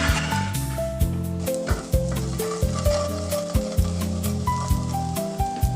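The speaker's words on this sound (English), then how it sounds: "Now add chopped onion and saute it with the tofu." Chopped onion sautéing with tofu crumble in a pan, a steady close sizzle and stirring scrapes under a rhythmic musical backing with regular beats.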